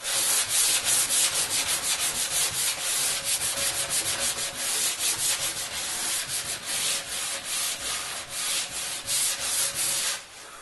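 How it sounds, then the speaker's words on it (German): Sandpaper rubs steadily over a wooden cajon in quick back-and-forth strokes, a loud continuous scratchy rasp close by with no talking. "Wenn wir das bündig geschliffen haben"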